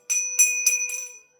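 The metal bell at Madmaheshwar temple is struck four times in quick succession, each bright clang ringing over the last and fading into a clear, lingering tone, heard up close with no voices.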